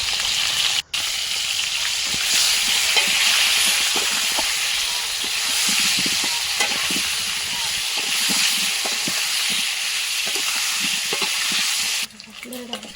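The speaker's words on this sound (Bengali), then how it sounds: "নুন হলুদ দিয়ে একটু ভেজে নেবো এটাকে" Potatoes frying with salt and turmeric in a village-style kitchen give a loud, steady hiss and sizzle that runs almost unbroken, with faint stirring clinks and brief shuffles underneath.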